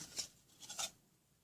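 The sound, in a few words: loosening a toy C-clamp vise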